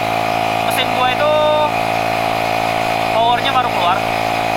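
Bored-up Honda Scoopy scooter engine screaming at high RPM above 10,000, a loud continuous buzzing whine with short rising rev swells, and a voice talking over it.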